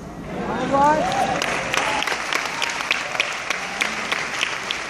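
Audience applause at a talk by Mr. Mark Sterling, a mid-level spread of clapping that runs for about five seconds, with a few voices and exclamations rising over it near the start.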